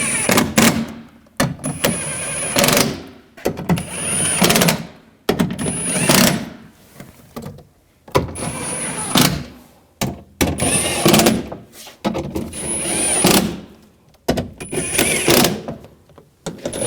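A tool works bolts snug on a 2011-2018 Ram 1500 front door latch in repeated bursts of whirring and ratcheting, each a second or two long, separated by short pauses, close and fairly loud.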